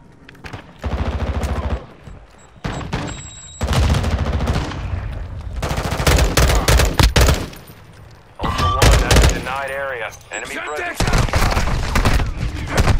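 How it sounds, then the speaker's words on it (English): Gunfire in the video game Call of Duty DMZ, with loud rapid bursts and fusillades close by, broken by brief pauses, while players talk over the shooting. "You're taking effective fire."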